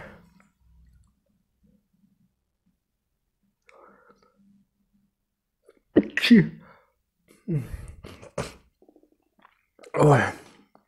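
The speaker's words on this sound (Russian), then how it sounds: "Извините, ребят, чихнул." A man sneezes during a dumpling-eating session, with a few sharp, close bursts after a quiet stretch, and soft voice sounds and small mouth noises between them.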